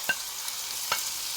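Anchovy fritter batter fries in hot oil with a steady, bright sizzle, close by, broken by two faint soft clicks.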